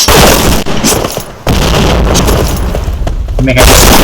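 Loud, dense grenade blast and rumbling debris in the shooter game Point Blank, filling the whole moment with booming noise, brief dips, and a voice speaking near the end.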